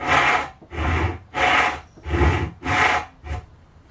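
A freshly sharpened hand saw cuts into Purpleheart wood in five even, rasping strokes with a steady push-pull rhythm, close and fairly loud, with no talking.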